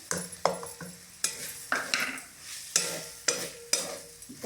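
Ground coconut masala paste with turmeric, onion, garlic and spices roasting in a pan, with repeated spoon scrapes and stirring clinks over a soft steady sizzle, close and moderately quiet.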